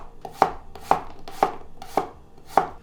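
A knife chops apples on a cutting board for a vegan apple cobbler, five sharp, evenly spaced thunks about half a second apart, close and clear with no voices.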